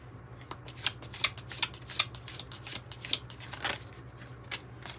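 Oracle cards from a soul contract deck being shuffled by hand, a rapid run of crisp papery riffles and flicks repeating for several seconds, fairly close, over a low steady hum with no talking.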